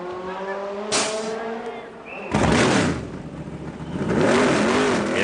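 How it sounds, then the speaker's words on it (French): A Chevrolet Corvette race car at the 24 Hours of Le Mans at night, its engine roaring loudly, dipping briefly and then surging again as it revs hard past nearby. "Et le bruit unique d'une Chevrolet Corvette."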